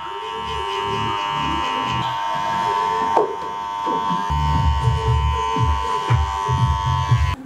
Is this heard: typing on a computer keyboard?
no